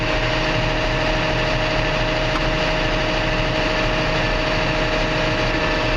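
A Komatsu D61 bulldozer engine runs steadily at medium RPM with its hydraulics engaged, giving a loud, constant, close mechanical drone with a fixed whine and no talking.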